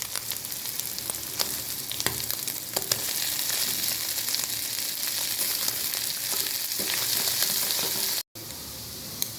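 Boiled chicken and carrot frying in a pan, a loud, continuous sizzle broken by scattered stirring clatters, close by, with a brief dropout near the end.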